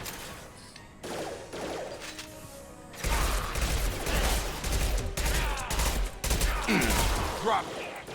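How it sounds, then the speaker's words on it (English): Gunfire in the Mass Effect 2 video game, with sustained loud bursts of weapon fire and impacts that swell after a quieter opening and continue densely to the end. "Firing now."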